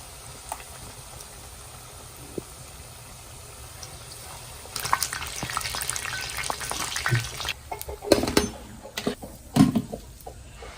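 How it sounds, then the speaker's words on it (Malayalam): Battered banana fritters (pazham pori) drop into hot oil in a pan, setting off a steady crackling sizzle that swells louder partway through, with sharper spits and pops near the end; no talking. "അപ്പൊ നമുക്ക് മാവിൽ മുക്കിയിട്ട് പഴംപൊരി എണ്ണ ചട്ടിക്ക് ഇട്ട് കൊടുക്കാം."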